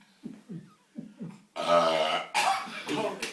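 A burping contest in Sunderland: a few short grunting sounds give way to a long, loud, rumbling burp, then another raspy belch, with people's voices close by.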